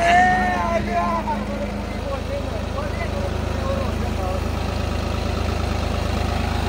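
A New Holland 3630 Special Edition tractor engine idles with a steady low rumble, close and loud, continuous throughout, with a few voices heard over it at the start.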